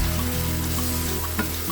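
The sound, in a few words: chicken breast sautéing in a pan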